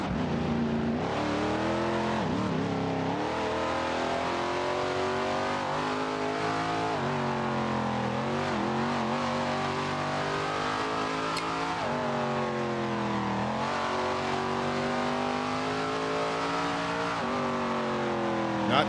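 A late model race car engine screams through a qualifying lap in a racing video game, rising and falling steadily as it shifts and revs through corners, loud and continuous with no talking.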